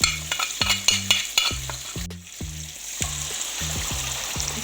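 Blended, strained tomato sauce with butter and garlic cooking in a pan, a loud sizzle broken by repeated rhythmic scraping strokes of a stirring utensil, close and clear.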